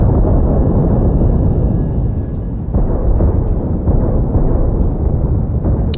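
Space battle explosion in the starship game The Last Starship, a loud, deep rumbling blast that rolls on for several seconds with a heavy low-end roar and faint high tonal whine above.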